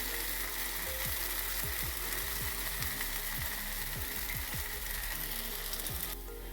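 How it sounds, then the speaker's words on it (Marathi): Crisp jowar (sorghum flour) dosa roasting on a hot pan, giving a steady, close sizzle that runs throughout with faint scattered ticks and crackles underneath. "छान खरपूस छान भाजून घ्यायचा"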